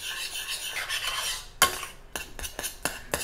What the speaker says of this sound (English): And you stir it.